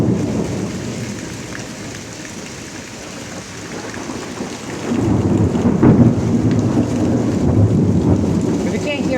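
Heavy rain falls steadily through a severe thunderstorm in Pittsburg, Kansas, with loud, continuous rolling thunder that swells stronger midway and stays close and booming to the end.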